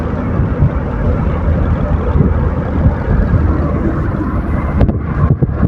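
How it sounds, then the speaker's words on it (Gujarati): Strong seashore wind buffeting the microphone in a continuous loud, rumbling roar, with no talk. "આ દરિયાકાંઠો હોય ને એટલે બહુ જ પવન એકદમ અસલ ટાટો હોય"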